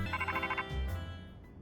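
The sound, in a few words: phone ringtone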